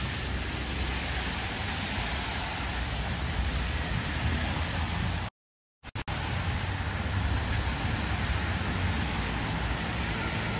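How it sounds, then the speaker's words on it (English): Heavy rain pours steadily in Brooklyn during a flood warning, a loud, dense hiss with a brief dropout midway, no voices. "It's still raining."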